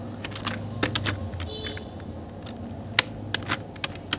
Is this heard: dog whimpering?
no